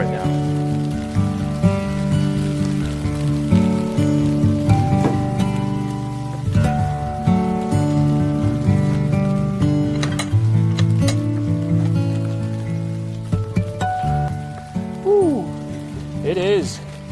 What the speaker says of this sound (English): Light rain is called drizzle.